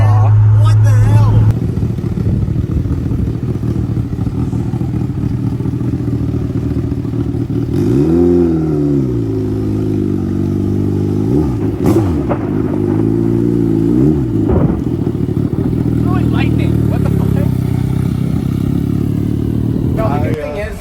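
A stretched turbocharged Suzuki Hayabusa motorcycle laying down rubber, its engine droning loudly with rising and falling revs and a burst of clatter, heard nearby under steady conversation.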